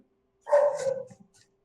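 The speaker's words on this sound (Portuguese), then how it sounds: "tem alguém que está com o telefone aberto e tem um cachorro latindo aí." A dog comes through a caller's open phone line with a single short, muffled bark, slightly compressed and thin, standing alone against silence.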